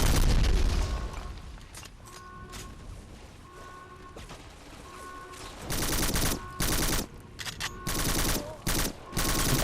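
Gunfire and a grenade explosion from the first-person shooter Black, with booming blasts and rapid shot bursts crowding the second half over a steady battle din.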